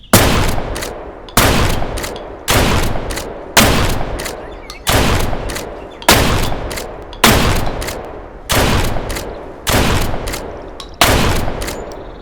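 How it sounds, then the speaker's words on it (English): A tier 3 shotgun in the survival game Deadside fires about ten loud, booming shots at an even pace, roughly one per second, each blast trailing off in a short echoing decay. "Then of course we've got the tier 3 shotgun."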